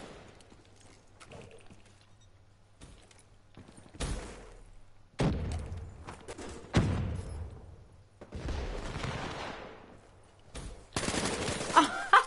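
Bursts of rapid automatic gunfire and single shots ring out in a PS4 first-person shooter, coming in irregular clusters of loud cracks separated by quieter stretches, with no talking over them.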